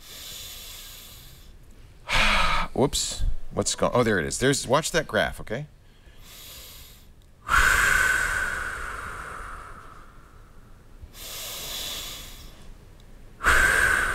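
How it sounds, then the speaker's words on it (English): A man breathes deeply into a phone mic for an iPhone breathing-measurement app: long, loud inhales and exhales, with a stretch of talk in between. "let me breathe in"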